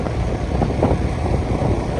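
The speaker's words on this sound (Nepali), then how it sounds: "हावा चाहिँ खत्रै छ।" Strong wind buffets the microphone during a motorbike ride toward Sindhuligadhi, a steady, loud broadband roar that runs unbroken from start to finish with no voices.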